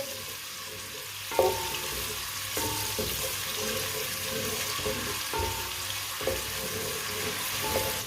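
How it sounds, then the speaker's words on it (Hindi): Finely chopped onion fries in oil or ghee in a pan, a steady close sizzle broken every second or so by stirring scrapes and clatters. "एक बारीक कटा हुआ प्याज, प्याज को हल्का सा ब्राउन कर लेंगे।"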